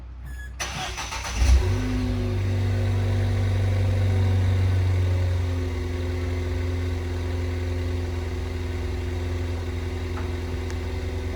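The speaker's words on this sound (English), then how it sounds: "All right, cold start." A Ford Fiesta ST fitted with a Maperformance exhaust cold-starts with a sharp crank and a brief rev flare, then settles into a steady, loud idle with a droning low hum for the rest of the clip.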